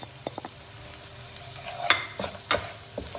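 Softened onions sizzle in a frying pan as masala spices, including turmeric, are stirred in for an egg masala (khagina), with a low steady fry broken by a few sharp scraping stirs, close and without talk.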